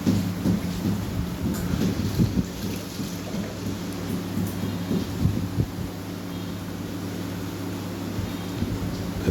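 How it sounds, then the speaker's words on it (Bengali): Heavy rain pours down in a dense, loud, continuous roar. Low rumbling thunder rolls underneath throughout, and no one speaks. "এখন মানে প্রবল বেগে এসে গেছে বৃষ্টিটা"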